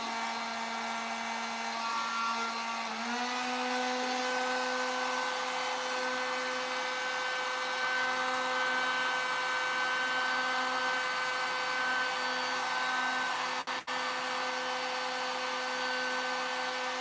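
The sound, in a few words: heat gun running while fixing a dented car fender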